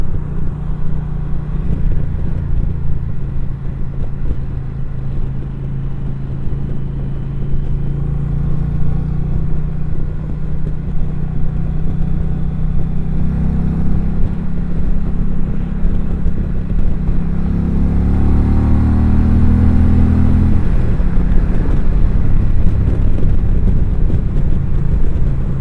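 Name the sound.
2020 Indian Challenger motorcycle engine during demo ride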